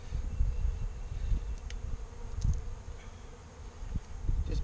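A low, steady buzzing of many honey bees from a package being installed into a hive hums continuously, close and moderately loud, with no talking.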